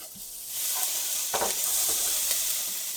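A steak sizzles loudly on a very hot Kenyon Revolution indoor/outdoor electric grill, a steady bright hiss that swells as the meat is shifted, with a few scraping touches.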